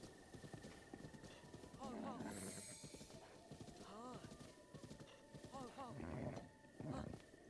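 Horse hooves clip-clopping and repeated whinnies in Breath of the Wild, several rising neighs over game sounds and a steady tone, with a person talking alongside.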